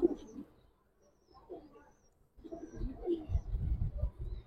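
Giribaz pigeons coo softly and close by, giving a few low, throaty bursts with short gaps. The cooing grows busier and denser toward the end.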